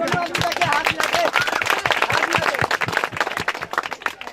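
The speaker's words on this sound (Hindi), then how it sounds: "सभी लोग ताली से स्वागत करें इनका।" Outdoor crowd clapping at a local cricket match, dense and loud applause from the spectators, with a voice over a loudspeaker faintly mixed in.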